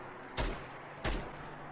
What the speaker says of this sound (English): you will have the echo from the gun sounds